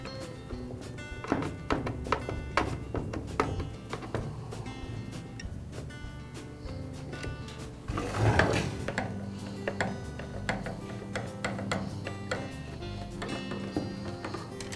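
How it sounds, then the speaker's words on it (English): Screws come out of a chainsaw brake cover: a close, quiet sequence of small clicks, taps and ratcheting tool turns, with a brief louder rustle midway. "Now I'll remove the screws."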